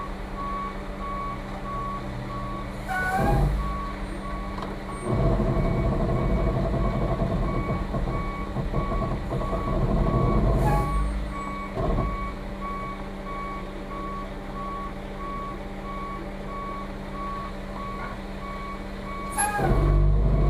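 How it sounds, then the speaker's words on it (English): A concrete mixer truck rolls slowly backward with steady, loud reversing beeps repeating over a deep diesel engine rumble that swells in bursts, with no talk. "let your foot off the brake, let the truck roll back, probably like 6 inches"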